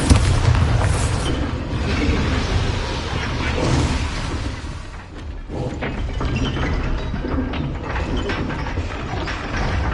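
A Bombarda spell exploding in the video game Hogwarts Legacy, with deep booming blasts and rumbling thuds over a dense layer of game effects and mechanical clatter, loud and sustained for the whole stretch.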